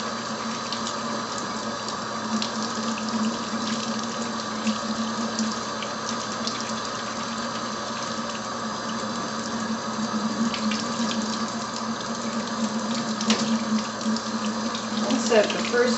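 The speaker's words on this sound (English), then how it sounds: "Turn on the tap." Water runs steadily from a tap into a sink during cleaning of candle wax from fabric, a constant close hiss and splash with faint knocks over the sixteen seconds.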